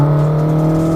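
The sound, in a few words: Toyota AE86 engine revving to 7,500 RPM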